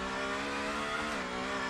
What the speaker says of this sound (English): Pretty loud when you're up in the higher RPMs.